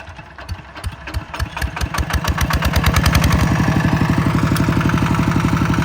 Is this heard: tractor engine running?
yes